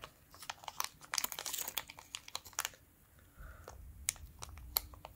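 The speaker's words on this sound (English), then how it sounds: "Let's see if I can open this pack." Trading card pack wrapper being torn open by hand, a run of close crinkly rips and crackles in bursts, pausing briefly then resuming with a few sharp snaps, no talking.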